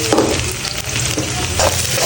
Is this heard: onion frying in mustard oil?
yes